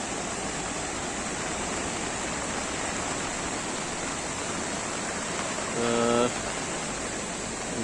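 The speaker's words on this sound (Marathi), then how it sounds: "पाण्याचा प्रवाहही वाढत चाललेला आहे" River water rushes steadily under the Furus village bridge in Dapoli–Khed, Konkan, swollen by heavy monsoon rain, a continuous broad roar with a brief louder surge near the end.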